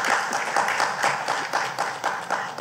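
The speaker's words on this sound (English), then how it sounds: "I think you should give me a clap for that." An audience at a distinguished lecture series in Grenada claps together in a steady round of moderate applause lasting a few seconds.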